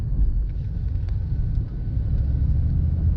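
A supercharged Chevrolet Monte Carlo SS idles close by with a deep, steady engine rumble that holds without pause through the short stretch.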